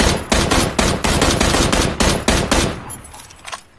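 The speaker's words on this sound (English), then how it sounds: "He's shooting at me." Loud, rapid automatic gunfire in a PUBG match, a dense string of close bursts that thins into a few scattered shots at the end.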